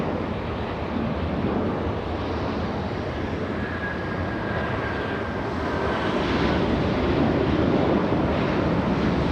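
An American Airlines airliner at LAX airport roars as a broad, steady jet rumble, loud and continuous with wind noise, slowly building toward the end.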